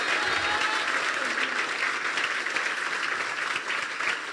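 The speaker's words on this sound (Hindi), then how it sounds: "कोई ताली बजाए जोर से" A church congregation claps loudly and continuously during a service, a dense, sustained wall of applause with faint voices mixed in.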